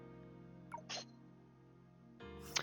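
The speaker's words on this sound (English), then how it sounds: "She just sneezed on my leg." Cat sneezing close by, two short sharp bursts about two seconds apart, heard over a steady hum of game music in a quiet room.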